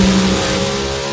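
A Pro Modified drag race car launches down the strip during qualifying, its engine roaring loud and close in a dense, steady blast.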